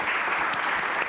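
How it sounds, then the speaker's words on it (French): Studio audience applauding on a 1997 TV quiz show, a dense, loud wash of clapping that fills the whole brief moment evenly, with no voices over it. "On peut applaudir."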